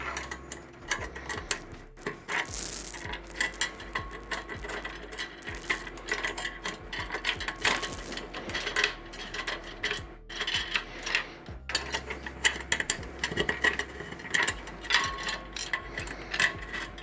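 A screw spins without catching in a thickened plastic part while building a Trident-based IDEX 3D printer, giving a steady, close, grinding ratchety whir with brief pauses and restarts.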